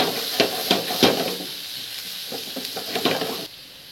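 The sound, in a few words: finely chopped ingredient frying until golden brown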